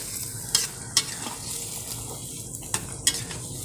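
Chicken gizzards are stirred in a pan of fragrant spiced oil with a little water, giving a constant close sizzle broken by about five sharp scrapes and knocks of a utensil against the pan.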